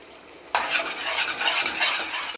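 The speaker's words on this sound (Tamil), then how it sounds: "மீடியம் ஃப்ளேமில் வச்சு கை விடாமல் கிளறிக்கிட்டே இருக்கணுங்க." Rava halwa is stirred in a pan over a medium flame. After a brief quiet start, a continuous close scraping and soft sizzling stirring sound runs to the end.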